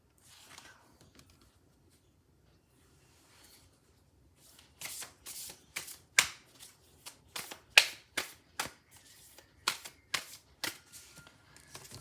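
Oracle cards are shuffled and drawn for an intuitive reading: after a near-silent start, a steady run of sharp, close card slaps and riffles repeats at an even rhythm, with no talking.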